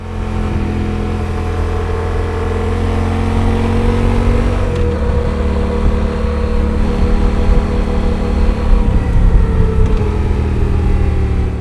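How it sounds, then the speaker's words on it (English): A Yamaha Super Tenere big-twin motorcycle rides a twisty mountain road near Los Angeles, its engine droning loudly and steadily with pitch rising and dropping through bends, under constant wind rush. "the Super Tenere is surprisingly fun on a twisty road like this"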